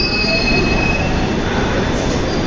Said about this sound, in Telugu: పక్కన గూడ్స్ రైలు వెళ్తుంది.